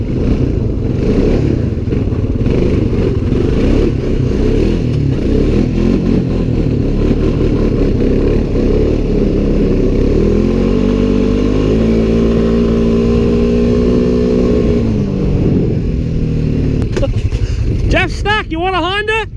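A Honda Pioneer side-by-side and ATVs rev their engines in snow, loud and close, with rising and falling throttle as wheels spin, while voices talk over the roar.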